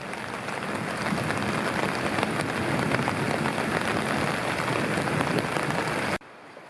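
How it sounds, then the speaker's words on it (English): Steady, dense rain pouring down in a continuous wash of patter and splashing, loud and close, cutting off abruptly at the end. "Now we got the real rain barrel in action."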